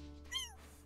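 A cat meows once in The Sims 4 life-simulation game, a short rising-and-falling call that stands clear over a steady low game background hum.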